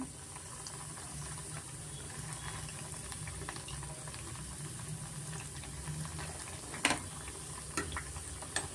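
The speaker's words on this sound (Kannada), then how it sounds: "ಸ್ವಲ್ಪ ಎಣ್ಣೆ ಚೆನ್ನಾಗಿ ಕಾಯಿಸ್ಕೊಂಡು ಬ್ರೆಡ್ನ ನಾವು ಎಣ್ಣೆಯಲ್ಲಿ ಫ್ರೈ ಮಾಡ್ಕೊಳ್ಳೋಣ." Bread slices fry in heated oil over a medium flame for a vegetable bread pulao. A faint, even sizzle runs throughout, with a few sharper clinks of a utensil near the end.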